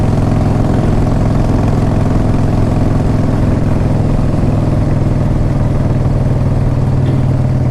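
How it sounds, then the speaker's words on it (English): A 1994 Harley-Davidson Fat Boy motorcycle idling close by, a loud, steady low rumble with even throbbing pulses that hold constant throughout, with no voices. "Now, when I started this bike up"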